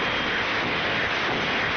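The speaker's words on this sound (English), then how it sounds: "Or he's like revving it." A loud, steady engine roar at high revs, sustained and harsh without any break.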